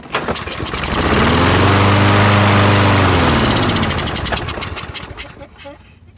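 A beat-up lawn mower engine cranks and catches briefly, swelling to a loud rough run before sputtering and dying away, close up, with someone talking.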